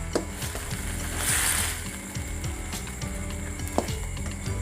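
Squid stir-fried for a spicy Thai dish with long beans, sizzling steadily in a pan with a brief louder hiss and occasional scrapes of a utensil against the metal.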